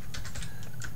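Quick bursts of typing on a computer keyboard as an email address is entered on a standard sign-up page, irregular clicks close and clear over steady low background hum.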